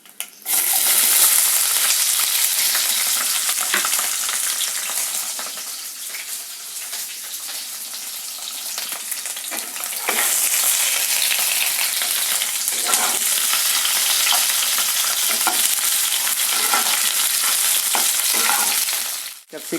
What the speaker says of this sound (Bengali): যেহেতু তেল বেশি আছে, ওই তেলেই আমি ক্যাপসিকামগুলো ভেজে নেব।